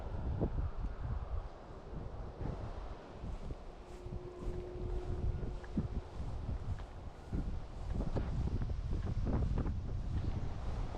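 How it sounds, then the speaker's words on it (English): Strong wind gusting outdoors while fishing, buffeting the microphone in a steady loud roar that rises and falls, with no talk. "That wind is picking up."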